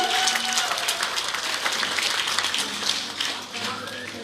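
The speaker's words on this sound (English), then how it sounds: "Can I get a round of applause, please?" Dense applause from a crowd, steady clapping throughout at moderate loudness, no voices standing out.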